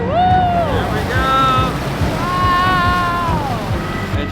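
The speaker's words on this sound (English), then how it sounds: "And just like that, Yaki has taken us to the water" An amphibious boat car on a tour in Iceland rolls into the water, with a steady rush of splashing and wind noise throughout while people whoop and call out excitedly over it.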